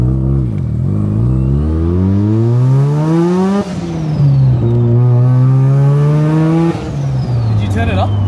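A rebuilt big-turbo Mazda RX7 rotary drives a lap, its engine revving loud and close through rising gear pulls with sharp shifts between them, while people talk in the cabin.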